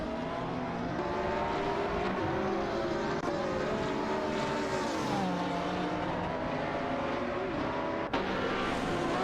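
In a racing video game, race cars including a Lamborghini Reventon and an RGT8 roar continuously, their engine tones rising and falling together in a steady, dense drone with no pauses.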